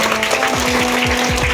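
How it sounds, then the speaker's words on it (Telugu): Students at a school election in Piduguralla clap after a vote count, giving a steady, dense wash of applause that runs evenly through the whole short stretch with a faint hum beneath. "క్లాప్స్ కొట్టండి."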